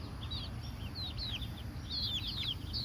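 Chickens clucking and chirping in a coop in short repeated calls, fairly close, over a steady low background hum.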